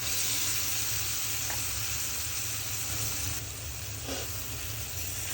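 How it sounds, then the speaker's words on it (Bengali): Taro stolons go into a pan of shrimp masala and sizzle and fry steadily, with a constant crackling hiss close by and a soft clatter of stirring now and then. "এখন আমি লতিগুলো দিয়ে দিব।"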